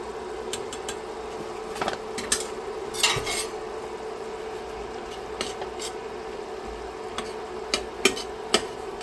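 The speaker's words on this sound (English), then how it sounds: "And I'm going to give it a good stir." A spoon stirring flour into a pan with garlic, producing repeated scraping and light metallic clinks against the pan over a faint steady sizzle.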